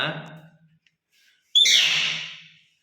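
A pet myna bird gives a sharp, loud squawking call that trails off, alone after a quiet gap and preceded by softer chirpy sounds.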